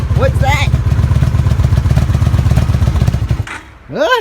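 A 1996 Honda Magna VF750C motorcycle engine runs loud and close at its first start after final assembly, with a rapid, even, low-pitched throb that dips briefly near the end; a voice is heard at the close.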